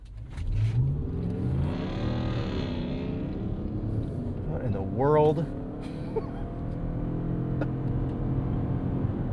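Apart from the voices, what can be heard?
loud engine of a Stellantis vehicle beside the car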